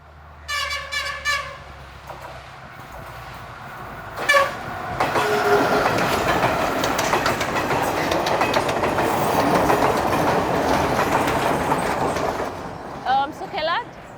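A Sri Lankan train rumbles past on a railway track, loud and sustained clattering with horn blasts at the start and end, while people talk over it.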